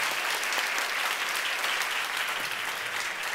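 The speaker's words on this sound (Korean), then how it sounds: "큰 박수와 격려를 보내주셨으면 좋겠습니다" A church congregation applauds in dense, sustained clapping that fills the room evenly from start to finish without pause.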